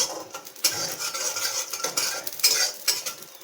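Scattered sharp pops and crackles of dhani (popped grain) against a busy scraping, stirring sound in a pan, with bursts clustering at moments and no voices.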